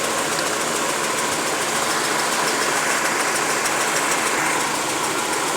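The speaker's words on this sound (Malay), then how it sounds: "Mana enjin ni still vibrate dan tak mati pun." Car engine idling rough and vibrating during a no-start diagnosis, a loud, steady, dense mechanical rumble with a fine rattling texture that stays constant throughout, heard close and with no voices.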